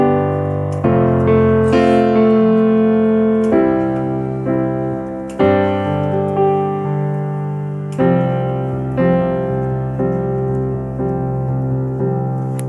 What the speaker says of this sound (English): You can never end a song on sus4 because it will sound like this.